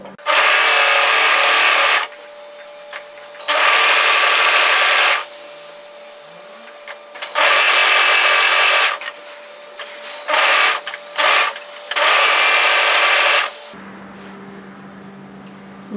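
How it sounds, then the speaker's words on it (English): Overlocker sewing machine stitching the short edges of fabric sleeve pieces, running in loud even bursts of a few seconds each, separated by pauses with faint handling noises, and a low hum at the very end. "just overlock the short edges on both of those pieces, right on the edge, just to secure it"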